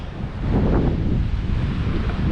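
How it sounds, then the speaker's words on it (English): Steady wind at Cha-am Beach in Thailand on a hot, humid day, a loud continuous rush buffeting the microphone with a low surf-like roar and no voices. "Wind is blowing, it's hot, it's humid."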